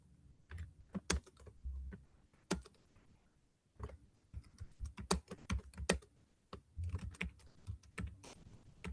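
Keys clatter on a computer keyboard while someone builds a website in Google Sites, irregular bursts of close typing with short pauses between runs of keystrokes, no voices.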